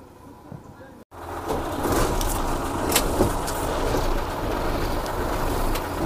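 A truck engine starts up during a Diwali blessing of the vehicle, a sharp break, then a rough, rumbling idle that holds steady with clanks, under nearby chatter.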